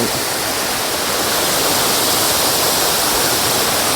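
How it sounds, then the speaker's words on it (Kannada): Sirimane Falls roars as a steady, loud waterfall, a dense, unbroken rush of falling water close by with no pauses. "ಜಲಪಾತ ಫಾಲ್ಸ್ ಅಣ್ಣ ಯಾವ ಫಾಲ್ ಇದೆ ಸಿರಿಮನೆ ಫಾಲ್ಸ್ ಸಿರಿಮನಿ ಫಾಲ್ಸ್"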